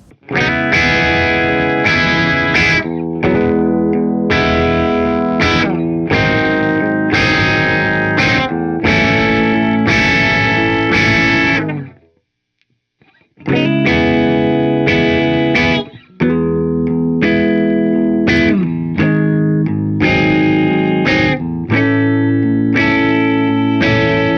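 Gibson Les Paul Tribute electric guitar with a mild overdriven crunch plays rhythmic chords and riffs, a short silence midway, then more driven strumming.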